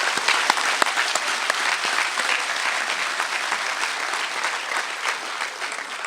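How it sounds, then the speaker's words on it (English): At the 2018 UMass Hall of Fame induction, a hall audience gives a sustained round of applause during an acceptance speech, a thick continuous patter of many hands with a few sharp individual claps standing out, alone without talk. "can we give her a round of applause?"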